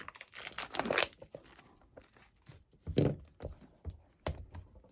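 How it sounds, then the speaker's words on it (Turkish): Plastic wrap being torn and crinkled off an Apple HomePod Mini box, with a few bursts of ripping and crackling plus soft handling thumps, close and fairly quiet. "Dışındaki naylonu tutup açacak bir yer yapmamışlar."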